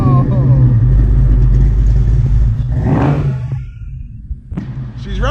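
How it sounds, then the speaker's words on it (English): A Ford Fox Body fitted with a GT40 tubular upper intake idles with a lumpy cam chop, a loud, steady low rumble that eases slightly midway, with a voice briefly audible. "I haven't heard that cam chop in a long time"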